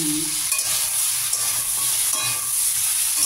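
Tender ridge gourd sizzles in a hot frying pan, a loud continuous frying hiss close up with light stirring and clinks, no voices.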